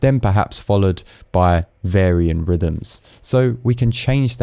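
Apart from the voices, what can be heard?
No everyday noises stand out.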